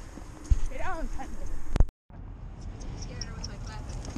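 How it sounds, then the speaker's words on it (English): Horse hooves clip-clop on a town street, a quick run of clops heard close under a voice before a brief cut, then fainter background movement. "Horse."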